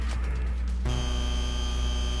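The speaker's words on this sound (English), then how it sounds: "a loud buzzer" A timer buzzer from the Danganronpa V3 video game sounds loud and steady, a harsh electronic drone that comes in sharply partway through and holds over a low background hum.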